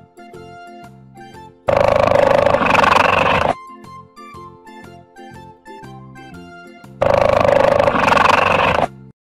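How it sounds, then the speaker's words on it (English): Two loud cartoon leopard roars, each about two seconds long, burst out over a light plinking children's music bed with a pause of music between them. "Leopard."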